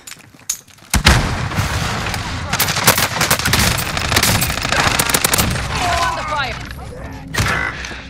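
Gunfire in Call of Duty: Modern Warfare, a sudden loud onset followed by sustained rapid automatic bursts and scattered shots, close and intense, with in-game voices speaking over the battle.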